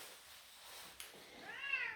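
A British Blue cat, being brushed during grooming, gives one soft, rising meow near the end after a brief quiet stretch.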